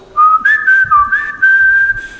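A man whistling a wavering tune in a UN hallway, a single clear, loud melodic line close by with short breaks between phrases.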